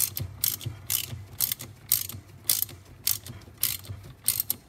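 A ratchet tightens an oil pump bolt on a Ford 3.5L V6 engine, giving a rapid series of close, crisp clicking bursts in a steady back-and-forth rhythm, with no talking.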